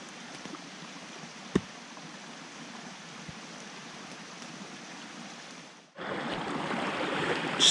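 A small brook flows with a soft, continuous rushing wash. It grows noticeably louder and fuller for the final seconds, with one brief knock early on and no voices.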